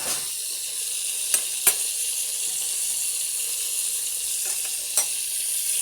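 Chopped tomatoes sauté in a pan for tomato rice, a steady soft sizzle punctuated by a few sharp spoon-against-pan clicks, close up and without speech.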